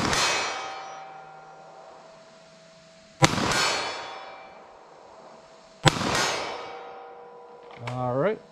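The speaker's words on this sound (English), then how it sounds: "Let's try some 9mm full-size pistol here." Three sharp 9mm full-size pistol shots fired at a target 50 yards away on an outdoor range, each a loud crack with a ringing, slowly fading tail spaced a few seconds apart, followed by a brief tonal whine.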